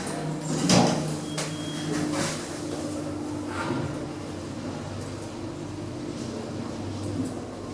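Kone M series lift doors, about 25 years old, slide shut with a soft clunk at the start followed by a steady mechanical whirr and faint rattles inside the lift car.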